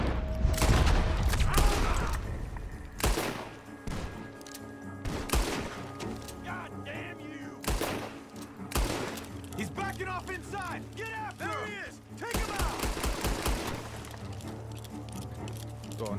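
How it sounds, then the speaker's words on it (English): Gunfire from a barn in Red Dead Redemption 2: repeated sharp shots at irregular intervals over a low rumbling game ambience, with voices talking in between. "The gunshots are coming from that barn!"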